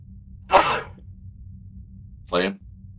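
Two short sneeze-like bursts about two seconds apart, close and fairly loud over a low steady hum, with no talking.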